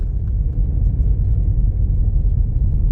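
A car driving downhill on a steep forest road in Canada, giving a loud, steady low engine and road rumble that never lets up and has no talking over it.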